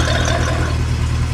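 A Mercedes C63 AMG engine idles with its exhaust valves open, giving a steady, loud, deep burble close by with no voices.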